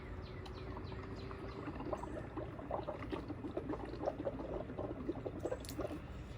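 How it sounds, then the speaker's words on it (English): Air blown through a straw into a container of colored soap and water, making a continuous gurgling bubble that rises and falls under steady background noise, with no talking. "once you mix your color in with your soap and water, you blow bubbles."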